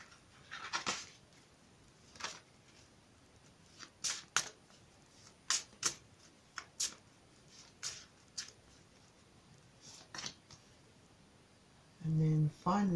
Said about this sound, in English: I've already pre-shuffled these cards, but I'll shuffle them again for you on camera.